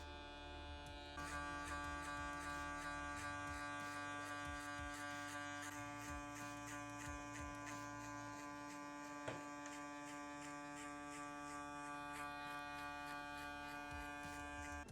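An electric hair clipper fitted with a guard buzzes steadily up close during a fade haircut, a continuous motor whine with a few small clicks and no speech.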